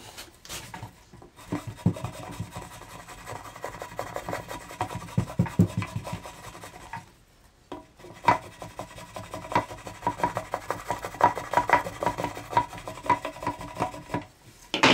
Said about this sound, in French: comme je ne peux pas redescendre jusqu'en bas, je finis ici au ciseau à bois